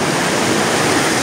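Water flows steadily beside a large tree, a continuous close rushing wash with no pauses and no voices.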